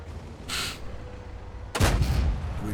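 A tank cannon firing in World of Tanks, a single heavy booming shot with a rumbling tail, preceded by a softer earlier burst against steady battle ambience.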